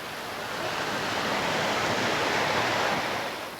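Atlantic Ocean surf at Cocoa Beach, Florida: a steady, broad wash of breaking waves rolls on without pause, close and fairly loud, with no voices over it.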